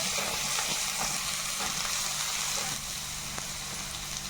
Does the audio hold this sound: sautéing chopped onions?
yes